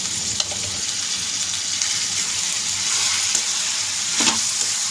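Mutton keema seasoned with coriander powder sizzles steadily in a pan, with a few scraping stirs of a spoon cutting through the loud, continuous frying; no one speaks.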